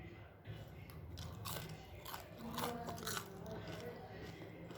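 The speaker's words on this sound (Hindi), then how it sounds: "इसकी आवाज़ से आपको समझ में आ रहा होगा कि ये कितने क्रिस्पी बने हैं" Close crisp crunching and cracking as a crispy fried snack is broken apart by hand, a few sharp snaps over faint background noise.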